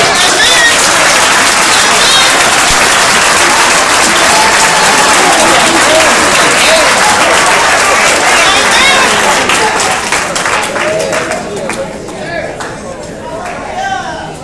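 Loud, dense clapping from a packed public meeting in Vallejo, mixed with crowd chatter and calls, holding strong for most of the stretch before easing off at the end.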